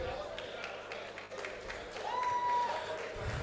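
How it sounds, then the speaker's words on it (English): Audience clapping at a Felabration debate event, a steady patter of many hands at moderate distance with some crowd voices, swelling slightly toward the end. "Please give them a round of applause again"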